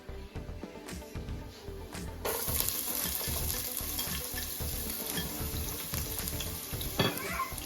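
Congealed palm oil melting in a pot over heat gives a soft, continuous sizzle and faint bubbling, fairly quiet and close, with no one talking.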